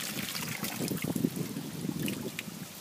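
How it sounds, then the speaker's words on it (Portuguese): Water spills out of an aquaponics water box into a tank, a steady soft trickling and splashing close by, with faint wind noise and no talking. "Cai água fora."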